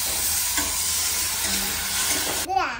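Crabs frying in a pan: a loud, close, continuous sizzle fills nearly three seconds, with a few faint clinks and a quick scrape at the end.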